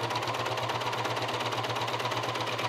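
A coverstitch sewing machine runs steadily throughout, stitching fabric with elastic thread under raised tension, giving a fast, even mechanical whir with a low motor hum close by.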